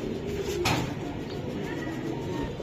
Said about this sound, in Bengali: এই মাদ্রাজি হাই ফ্লিয়ার কবুতর